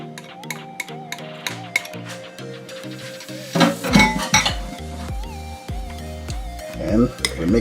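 Cucumber and tomato salad dressed with red wine vinegar and vegetable oil is tossed in a bowl, with light clinks and clatter of utensils against the dish over steady background music, a louder burst of clattering midway.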